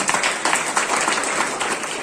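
Audience applause at an International Day of Yoga countdown event, a steady wash of many hands clapping together at moderate loudness for about two seconds, with no talk over it.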